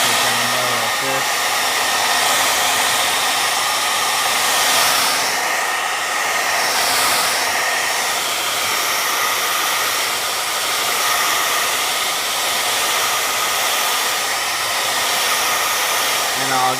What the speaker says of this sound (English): The heat gun will take less time because I'm using the hairdryer